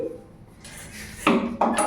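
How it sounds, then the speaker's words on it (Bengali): A frying pan set down on a gas stove while cooking karahi paneer, heard as two sharp metallic clanks near the end, close and fairly loud after a quiet stretch. "এখানে আমি গ্যাস ধরিয়ে নিলাম, একটা ফ্রাই প্যান বসিয়ে নিয়েছি, গরম হয়ে যাক"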